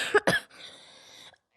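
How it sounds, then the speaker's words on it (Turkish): A 12-year-old child with a cough that has persisted for years gives two sharp, close coughs in quick succession, followed by a short raspy exhale, with no talking. "Bu öksürük beni gece de uyutmuyor."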